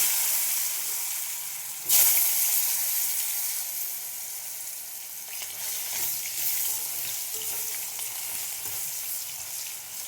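Potatoes drop into hot oil already crackling with panch phoron and black cumin, giving a sudden loud sizzle burst that settles into a steady, close frying hiss that continues throughout.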